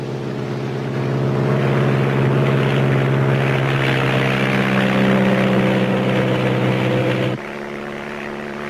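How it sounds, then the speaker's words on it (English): Two small propeller planes flying over rainforest, a loud, steady droning engine hum with pulsing propeller tones heard up close, continuing without pause until the pitch and level drop slightly near the end. "The shadows of our two small planes fall on rainforests which hide villages where the 20th century does not exist"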